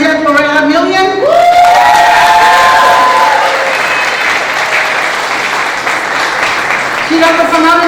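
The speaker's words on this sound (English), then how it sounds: "give you a nice round of applause" Graduation ceremony audience at a nursing school breaks into loud, sustained applause with some cheering, a dense wash of clapping lasting throughout, with a voice speaking over it at the start and end.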